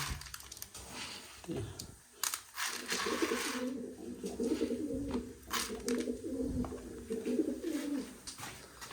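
Pigeons coo repeatedly in low, rolling phrases at a rural home at evening feeding time, close and fairly loud, with scattered clicks and rustles around them.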